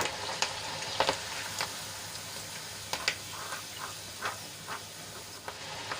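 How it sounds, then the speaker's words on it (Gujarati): Chana dal frying in oil is stirred and turned over in the pan, with a steady, hissing sizzle underneath and occasional sharp clicks and scrapes from the stirring, close and moderately loud. "આ રીતે હલાવી હલાવીને આપણે દાળને સરસ રીતે ઉપર નીચે કરીને તળી લઈશું"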